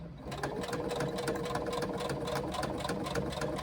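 A sewing machine runs steadily, stitching a second line along an on-the-go pouch in a continuous close mechanical whir with rapid needle ticks, no voices over it.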